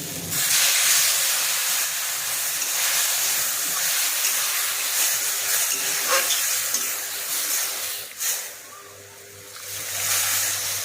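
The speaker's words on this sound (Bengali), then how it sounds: "সেদ্ধ হওয়ার জন্যে জল দিয়ে দিচ্ছি।" Water poured into a hot pan of bitter gourd, potato and small fish curry sets off a continuous loud hiss and sizzle that settles briefly near the end, with no talking.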